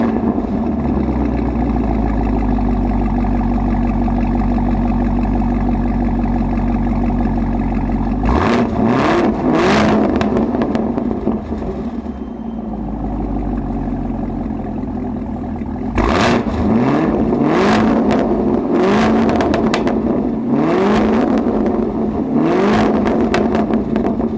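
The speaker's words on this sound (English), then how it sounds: "I'll let you listen to what the exhaust sounds like." A Chevrolet Camaro ZL1 1LE with a modified Borla exhaust idles with a deep, loud rumble, then barks through several sharp revs in two bursts separated by a quieter idle, close and without talk.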